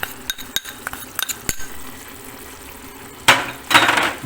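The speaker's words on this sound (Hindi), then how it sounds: "अब हम इसको गरम मसाले खड़े को थोड़ा सा भून लेंगे" Whole garam masala spices roast in a pan with scattered light pops and clinks of stirring, then two louder bursts of sizzling near the end.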